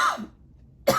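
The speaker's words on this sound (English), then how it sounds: "I had to go cough" A single sharp cough bursts out, with a rougher throaty cough fading just before a stretch of near silence, close and fairly loud.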